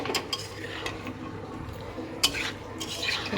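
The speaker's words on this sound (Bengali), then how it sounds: "মিক্স করে দিচ্ছি" Potatoes for a spicy potato curry are mixed in a pan with a metal spoon, giving scattered scraping strokes and a few sharp clinks against the pan, close by, without speech.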